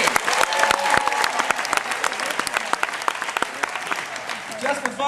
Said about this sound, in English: tell me by a round of applause, how many of you have seen Who Wants to Be a Millionaire on TV?